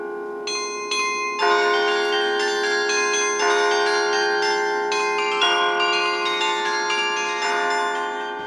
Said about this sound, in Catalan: I aquí al Palau de la Generalitat tenim aquest, que en té 49 de campanes concretament, i és igual que un piano.